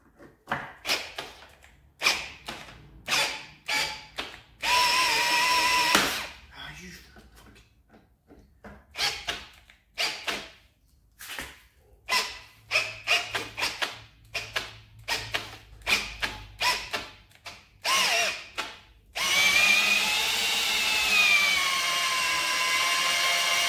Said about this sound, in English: let's see if we can pull her out without stripping the screw